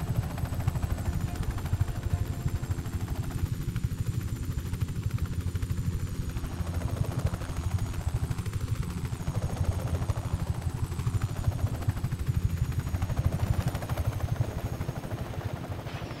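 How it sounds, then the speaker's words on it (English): Helicopter flying in the video game Just Cause 3, a steady droning engine and rotor hum that stays constant and moderately loud throughout, with no talk over it. "Flying in a helicopter, yeah."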